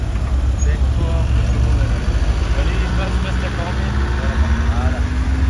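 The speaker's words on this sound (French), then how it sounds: "Là on est sur une 280 SL moteur 6 cylindres" A Mercedes 280 SL with a six-cylinder engine idles in a queue on a street at a classic car gathering, a steady low rumble with other traffic and murmuring people around.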